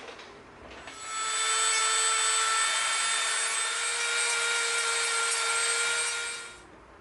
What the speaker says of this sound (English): we're going to have to come in and try to shape this a little bit with our Dremel